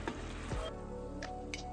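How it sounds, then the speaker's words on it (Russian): Meat cutlets sizzle and fry in a pan on a home stove, a steady close crackle with a few soft clicks and stirring scrapes, no talk. "варю тут гречку и буду котлеты еще жарить."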